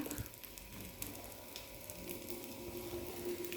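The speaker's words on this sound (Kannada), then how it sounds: "ನೋಡಿ ಹಂಚಿಗೆ ಸ್ವಲ್ಪ ಎಣ್ಣೆ ಹಚ್ಚಿಟ್ಟಿದ್ದೀನಿ ಈಗ ಈ ರೊಟ್ಟಿನ ಹಾಕ್ತೀನಿ" Masala akki rotti fries on a pan greased with oil and lined with a banana leaf, giving a faint, steady, close sizzle with no talking.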